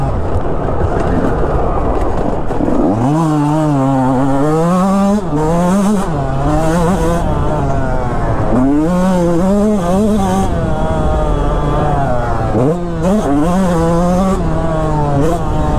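A Yamaha YZ125X two-stroke dirt bike ridden hard, its engine revving up and down in repeated rising and falling bursts as gears change, loud and close throughout.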